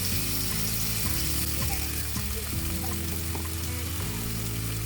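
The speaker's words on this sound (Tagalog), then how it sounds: "Kailangan marinig niyo yung sear." Marinated beef tapa sears in hot oil in a pan with a steady, loud, close sizzle throughout, broken by clinking scrapes and shifting pops as the meat is moved.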